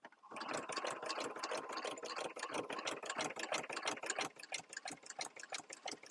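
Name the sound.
sewing machine stitching with ruffler attachment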